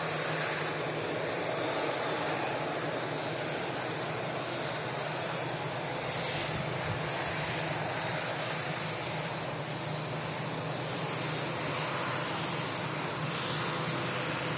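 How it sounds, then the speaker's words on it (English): A Saudi Boeing 787 Dreamliner at Manchester Airport gives a steady, broad, distant rumble mixed with wind noise, unbroken for the whole stretch with no voices. "Dreamliner here."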